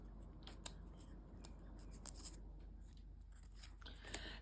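Scissors snipping regular printer paper into small pieces, quiet and close, with a series of sharp separate cuts and no talking.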